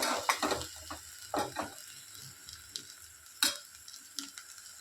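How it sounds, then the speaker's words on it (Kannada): Vegetables for veg pulao are stirred and mixed in a pan, giving irregular scraping and clinking strokes with brief bursts and a light sizzle, fairly close and moderately quiet, with no talking. "ಇವಾಗ ಇದನ್ನು ನೀಟಾಗಿ ಮಿಕ್ಸ್ ಮಾಡ್ಕೊಬೇಕು"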